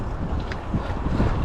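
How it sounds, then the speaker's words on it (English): Strong wind buffets the microphone outdoors on a bike ride through woodland, a constant low rumbling roar with gusty surges and no voices. "it's pretty fucking windy today"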